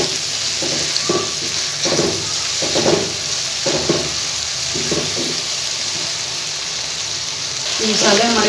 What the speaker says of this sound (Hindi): इसको मिक्स करने के बाद हम इसे 1-2 मिनट तक इसकी भुनाई करेंगे